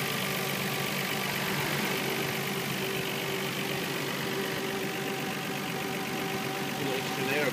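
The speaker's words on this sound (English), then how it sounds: "Nice quiet motor." A Nissan R34 GT-R with an enclosed intake idles smoothly and quietly nearby, a steady low rumble with a faint mid tone holding even throughout.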